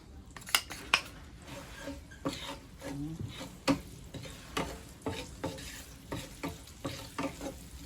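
Ginger sizzles in hot oil in a wok while a utensil stirs and scrapes, giving repeated clinks and metallic taps over a steady frying hiss, close and fairly loud.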